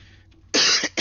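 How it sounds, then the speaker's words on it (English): A person coughs sharply two or three times in quick succession, close and loud, with a nasty lingering cough. "I have a nasty cough that I'm still working on"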